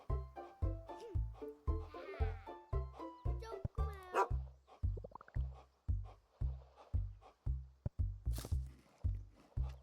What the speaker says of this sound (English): I need to bark without pulling on my leash